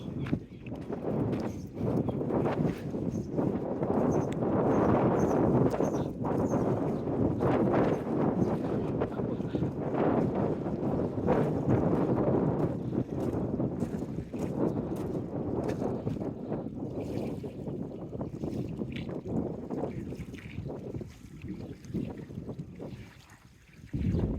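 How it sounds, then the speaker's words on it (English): Strong gale wind buffets the microphone at a seaside fish quay, a loud, steady broadband roar with gusty surges that continues throughout and fades slightly toward the end. "made it to the fish quay where it's absolutely blowing a gale"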